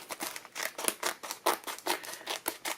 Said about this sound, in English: I'm going to have to just cut this open. Just going to have to cut it open.